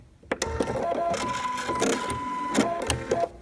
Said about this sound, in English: It automatically will thread the needle for us.